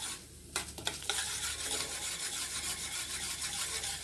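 Urad dal dry-roasts in a pan for dosa batter, giving a steady gritty rasping and scraping as it is stirred, with a few sharper scrapes near the start, close and continuous with no talk.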